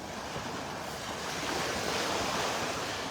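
Ocean surf washes onto a beach in North Naples, Florida, as the tide comes in, a steady broadband roar of breaking waves mixed with wind buffeting the microphone, with no speech.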